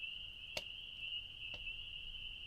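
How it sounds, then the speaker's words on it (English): Spring peeper frogs and crickets calling at night beside a backcountry lake, a steady high insect-like trill running throughout with a couple of brief sharper chirps standing out, faint and distant with no talking. "You guys could probably hear all the spring peepers."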